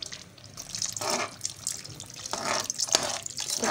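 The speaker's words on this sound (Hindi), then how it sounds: "आधे कप से थोड़ा ज़्यादा 3/4 कप हम इसमें पानी ऐड करेंगे" Three-quarters of a cup of water poured into a cooking masala, an uneven splashing and trickling stream with short drips and surges, close and moderately loud, no voices.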